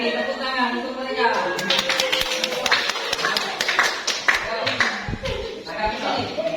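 A grade 7 class in an Indonesian school science lesson claps hands in scattered, uneven bursts while students and the teacher talk over the noise.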